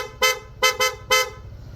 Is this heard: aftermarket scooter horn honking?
yes